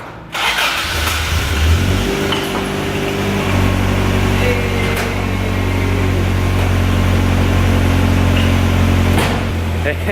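A Toyota AE86 engine cranks, catches and settles into a loud, steady idle with a low rumble and slight fluctuations, close by; a voice is faintly present.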